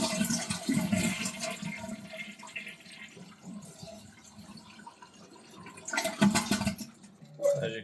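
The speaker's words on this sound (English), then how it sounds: "The next thing we want to do is flush the toilet and drain it out" A household toilet flushes and drains in a loud rushing surge that eases into a quieter gurgling trickle of water, then swells again near the end, with a person's voice faintly present underneath.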